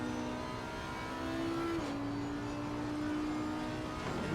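A race car in Assetto Corsa Competizione accelerates out of a corner at Bathurst, its engine drone climbing steadily in pitch, dropping briefly at a gear change, then rising again, loud and continuous with no talk.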